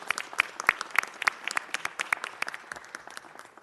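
Applause for a woman being honored for her emergency management service: fairly sparse, distinct claps from a modest audience, individual hand claps standing out irregularly over several seconds.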